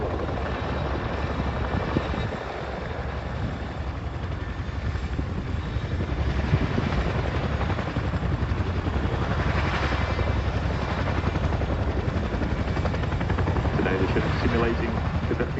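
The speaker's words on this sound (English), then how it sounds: "please turn your eyes to the sky for the 2024 Chinook Roll Demonstration" A Chinook helicopter performing a display at the RAF Cosford airshow in 2024, its broad rotor roar steady and moderately distant, heard under a public-address announcer's voice.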